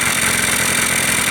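A Yamaha Blaster engine runs steadily after a top end rebuild, a loud continuous buzzing two-stroke drone close by with no talking.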